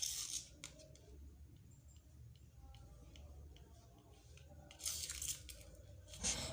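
Scissors cutting out a paper template for a full lace cap, faint crisp snips and rustling at close range, with short bursts near the start and again toward the end.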